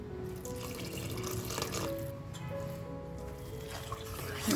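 A thin, steady stream of water trickles and pours at low volume into ragi flour batter, with faint clinks and a slightly louder splash at the end.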